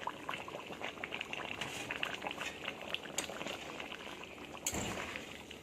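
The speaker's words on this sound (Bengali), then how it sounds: "জল ঝোলটা ফুটে উঠেছে" Fish curry with tomato and potato, in a thin watery gravy, boiling steadily in a pot, giving a continuous close bubbling and simmering with a few louder pops and clinks.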